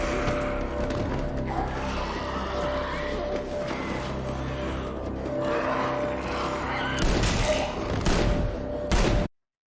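Gunfire from an episode of The Last of Us: a few sharp shots and thuds ring out over a steady background rumble, growing louder toward the end before cutting off abruptly.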